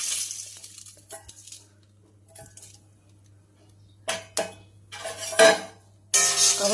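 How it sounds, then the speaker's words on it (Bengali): Homemade garam masala spices are stirred in a pan in scattered bursts, with scraping and light clinks of a spoon against metal between short pauses and a low steady hum underneath, with no talking. "আবার সবগুলো আমি একটু নাড়াচাড়া করে নেব।"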